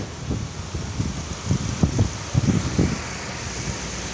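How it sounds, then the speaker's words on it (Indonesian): A car engine idles at about 800 RPM with the headlights and air conditioning switched on, a steady low hum with soft irregular pulses and a faint fan-like whir in the background. "mesinnya udah nyala ya, RPM-nya udah di 800"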